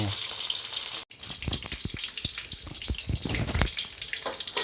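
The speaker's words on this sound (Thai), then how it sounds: "กุ้งเมื่อคืนแหละก็จะผัดพริกอ่อน" Shrimp stir-fried with young chili peppers in hot oil, a loud close sizzle and crackle with irregular spatters and stirring clatter, briefly cut off near the start before resuming.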